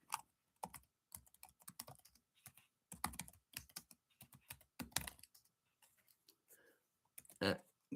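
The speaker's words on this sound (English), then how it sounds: "Let me type this in." Fingers clatter over a computer keyboard in quick irregular bursts with short pauses between them. The keys sound close but quiet, and a louder cluster of strokes comes near the end.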